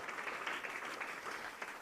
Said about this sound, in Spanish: Dale ese aplauso a Cristo porque Él es bueno.